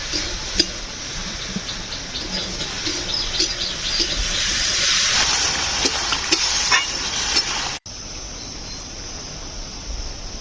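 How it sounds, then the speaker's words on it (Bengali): Water poured into a pan of sizzling light fish curry made with live pond fish and green plantain raises a close, steady hiss that builds for a few seconds and then cuts off abruptly, leaving a softer simmer. "আমি উপর থেকে জল দিয়ে দেবো"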